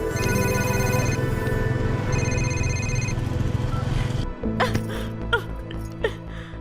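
A phone ringtone plays in repeated bursts, loud and close, then stops and a few faint knocks and clatters follow.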